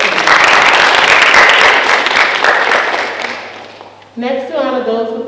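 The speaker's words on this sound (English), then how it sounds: "Let's give these students another round of applause for their" A high school honor roll assembly crowd claps loudly for students, the applause gradually fading before a voice begins speaking over a low hum.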